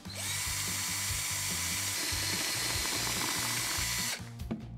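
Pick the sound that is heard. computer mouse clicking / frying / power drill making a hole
power drill making a hole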